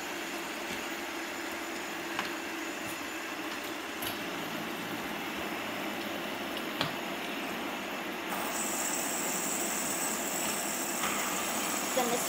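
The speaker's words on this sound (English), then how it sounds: "Give all these a nice spin." Several fidget spinners spinning together give a steady, even mechanical whir that runs unbroken throughout, growing slightly louder and brighter near the end as another spinner is set going.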